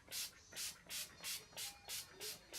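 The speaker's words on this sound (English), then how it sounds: "I'm also going to take the Urban Decay All Nighter Pollution Protection Setting Spray" Urban Decay All Nighter Pollution Protection setting spray mists in seven quick, evenly spaced pumps, each a soft, close hiss.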